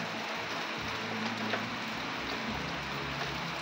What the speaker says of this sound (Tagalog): Antayin ko na lang talaga na humina itong ulan or huminto